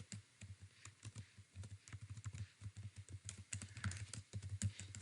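Fast typing on a computer keyboard, dense irregular clicks and key taps at close range, quiet and continuous with no voice.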